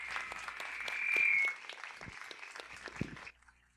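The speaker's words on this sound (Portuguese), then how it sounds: "eu gostaria que todos dessem uma salva de palmas para o professor" An audience at a Brazilian symposium on international courts and tribunals applauds a professor, a dense burst of hand claps that swells, then thins into scattered claps before fading out.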